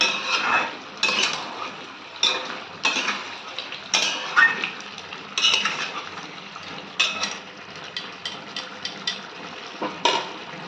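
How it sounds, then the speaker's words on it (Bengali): Chicken posto being stirred repeatedly in a pan with a little water, a spoon scraping and clinking against the metal in irregular bursts, close and moderately loud, with no voices. "এইভাবে বারবার নাড়তে হবে যাতে না তলায় ধরে যায়"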